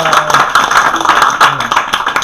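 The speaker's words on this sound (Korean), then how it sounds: "우리 모두를 위해서 박수로" Audience applause at an NLP stress-counselling coaching talk, a dense patter of many hands clapping with scattered whoops, steady for a couple of seconds.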